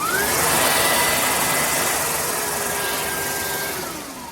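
An EGO battery-powered wet/dry vacuum cleaner running on its turbo setting makes a loud, steady whining roar nearby that holds constant and then eases off slightly toward the end, with no speech.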